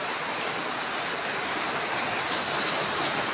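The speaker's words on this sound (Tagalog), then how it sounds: "Yan o, walang tigil lang ulan guys." Heavy rain falls continuously in an unbroken, dense, even roar with no pauses.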